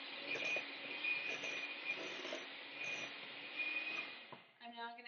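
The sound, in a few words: creaming soft butter with brown sugar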